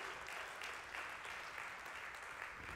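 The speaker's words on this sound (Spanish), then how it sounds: "le das aplauso fuerte" A church congregation applauds during a sermon, sustained even clapping that sounds distant and faint but fills the whole moment without a break.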